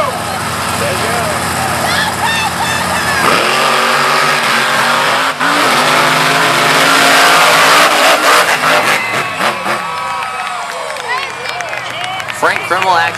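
Monster trucks Gravedigger and Krmel race side by side, bouncing into wheel stands; loud continuous engine roar and revving fill the scene, with a crowd cheering and an announcer talking over it.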